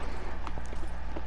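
Horse hooves galloping in the video game Far Cry 6, a quick, even clip-clop rhythm of hoofbeats up close over a steady game background.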